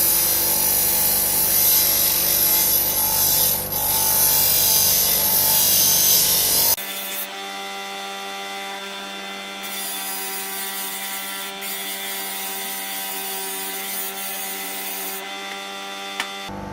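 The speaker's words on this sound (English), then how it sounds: "if you do want to try and sharpen on this, don't heat up the blade too much" Knife blade being sharpened on a powered grinder or sharpening wheel while repairing a broken knife, a steady loud grinding rasp that shifts to a thinner whine partway through, no talking.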